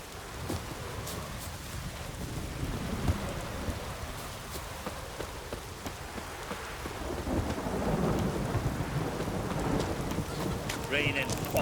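Heavy rain pours steadily with deep rumbles of thunder rolling underneath, a dense, continuous storm wash that swells louder toward the end, in the video game The Witcher 3: Wild Hunt.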